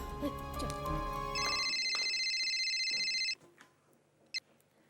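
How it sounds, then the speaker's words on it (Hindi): A telephone rings steadily on an outgoing call in a Hindi TV drama scene, a clear repeating electronic ring tone lasting about two seconds after a burst of background music, then quiet with a faint click. "हाँ, निशा को फोन करती हूँ।"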